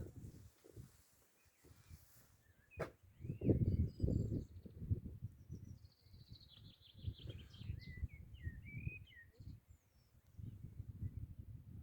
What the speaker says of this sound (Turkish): neler anlatıyorlar kuşlarımız